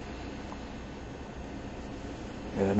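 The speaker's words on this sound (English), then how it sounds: "the noise you're hearing, that's an 18-wheeler parked next to me because I'm at a truck stop" An 18-wheeler truck parked close by at a truck stop gives off a low, steady rumble and hiss that holds constant, with a brief louder swell right at the end.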